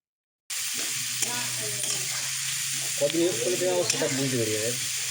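Onions with salt fry in hot oil for a Bengali thali, a steady close sizzle broken by scraping strokes of a spatula stirring the pan.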